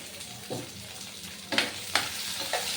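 Chicken frying in a pan with red, green and yellow capsicum and chilli, a steady close sizzle broken by several sharp scraping stirs of the spatula.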